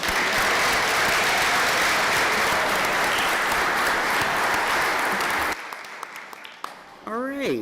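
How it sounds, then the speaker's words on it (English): Big round of audience applause for runners at a committee meeting, loud and dense for several seconds before it cuts off sharply, leaving scattered claps, room noise and a voice starting to speak. "One more round of applause for all of our wonderful runners this year."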